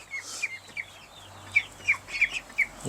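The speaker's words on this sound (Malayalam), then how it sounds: "കോഴിയാണ്" A native Kerala chicken clucks and chirps in a quick irregular series of short calls, close by, with faint low hum beneath.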